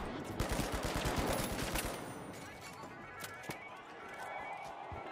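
Rapid gunfire from a shooter in The Finals, a burst of close, repeated shots in the first two seconds, then scattered single cracks over busy game noise.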